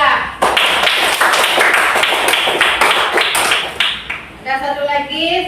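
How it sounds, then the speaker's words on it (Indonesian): A classroom of students claps for a classmate, a brisk burst of many hands lasting several seconds before fading, with voices and chatter close by. "Tepuk tangan untuk Puri."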